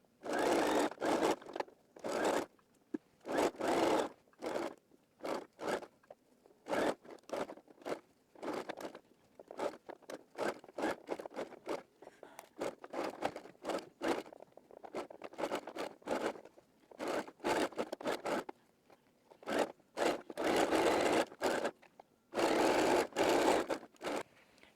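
A sewing machine bastes the lining to the shell of a wrap dress along a 3/8 seam allowance, whirring in repeated short and longer bursts of stitching separated by brief pauses, with no talking.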